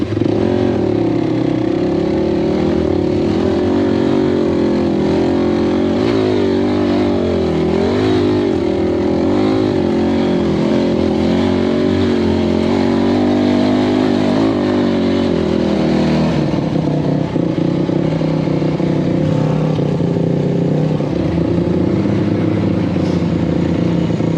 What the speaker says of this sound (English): Everybody's trying this hill full 2-wheel drive.